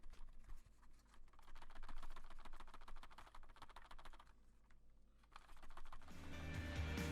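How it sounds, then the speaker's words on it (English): Rapid clattering and light rattling of a Mizar MZ60 Luna 60% hot-swappable mechanical keyboard's keys as it is shaken fairly hard, a dense fast patter close to the microphone, no voices. "when shaking it fairly hard, it didn't rattle all that much"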